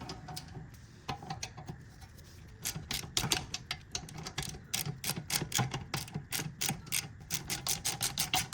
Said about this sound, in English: use the 15mm and put it around this part of the sliding pin to hold it in place while you remove the bolt